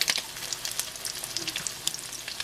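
Salmon fritters frying in a pan, a close, steady sizzle with small crackling pops scattered through the short stretch and no voices over it.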